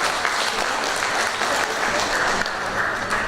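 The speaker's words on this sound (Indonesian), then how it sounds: "Beri tepukan yang hebat untuk seluruh" Audience clapping at an evening awards ceremony for the IKAWAPI association, a dense, even wash of many hands at a steady level for several seconds, with no speech over it.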